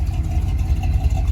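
Old Chevrolet C10 pickup truck running on its first test drive down the road, a steady low engine rumble that stays loud and even throughout, with no voices.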